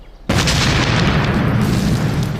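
A cannon fires in an animated comedy scene, one loud sudden boom that opens into a sustained rumbling roar for about two seconds.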